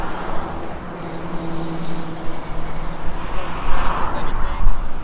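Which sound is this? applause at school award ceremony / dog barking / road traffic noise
road traffic noise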